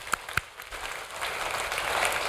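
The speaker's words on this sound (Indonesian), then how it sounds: "Boleh tepuk tangan semua jadi." Church congregation clapping during a Sunday worship service, a couple of sharp claps at first, then a steady, fairly quiet wash of applause building toward the end.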